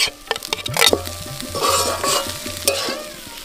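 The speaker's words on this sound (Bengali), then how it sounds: "এবার ভালো করে মিশিয়ে নিলাম।" Vegetables and rice stirred in ghee in a pan for navaratna pulao: a few close, scraping spoon strokes over a light sizzle, short and without talking.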